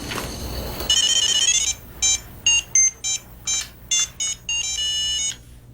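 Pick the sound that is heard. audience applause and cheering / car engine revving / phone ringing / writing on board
phone ringing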